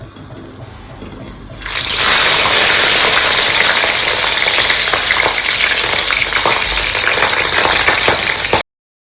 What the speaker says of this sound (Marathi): चला मग हिरव्या मिरच्या तळून घेऊया.